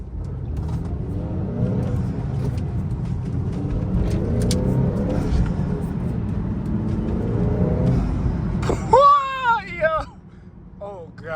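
A 2019 Honda Accord 2.0T Sport with a high-volume intake and stock exhaust drives steadily, its engine and road noise filling the cabin before it fades. Voices talk over it near the end.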